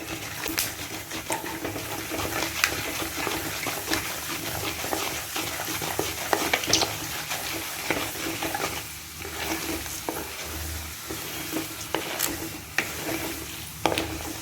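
Mustard seeds popping and sizzling in hot oil for South Indian rice upma, a steady crackling fry with scattered sharp pops and stirring scrapes close by, no talk.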